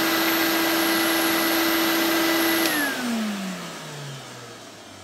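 Power head of a vintage Nilco Fakir commercial upright vacuum cleaner with a new belt hums at a high, steady pitch, then is switched off and winds down, its whine sliding lower and fading.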